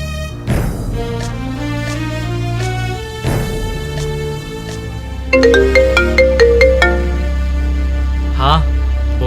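Phone ringtone playing through an outgoing call, a bright repeating melodic tone with shifting notes, steady and fairly loud, with a short burst of higher chiming tones near the end.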